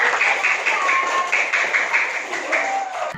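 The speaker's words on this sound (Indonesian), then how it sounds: "Tepuk tangan untuk" A class of students claps together after a classmate answers, a steady wash of hand claps with a few voices faintly underneath.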